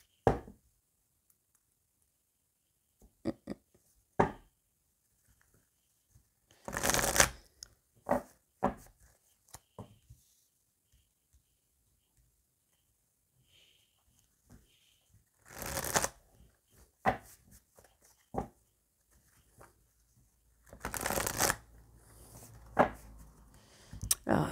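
Oracle cards being shuffled by hand, several bursts of close, crisp riffling and flicking separated by quiet pauses, with occasional soft handling noises and no talking.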